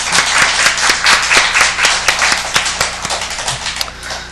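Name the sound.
applause for the pastor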